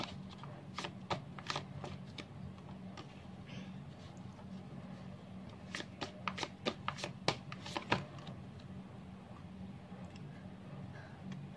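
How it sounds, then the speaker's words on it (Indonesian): Tarot cards are shuffled in a series of crisp riffling flicks and taps over a low steady hum. The flicks cluster in quick runs, mostly in the middle of the clip, with no clear talk. "Sebelum itu aku akan shuffle lagi."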